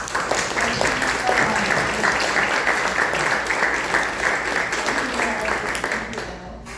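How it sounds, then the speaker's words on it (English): A press-night audience at a festival event gives guests a round of applause, dense and sustained clapping at a steady level that tapers off at the end, with voices mixed in. "Let's give a round of applause for our guests."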